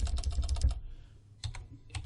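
Rapid typing on a computer keyboard: a quick burst of close, crisp key clicks, a short pause, then a few more scattered keystrokes.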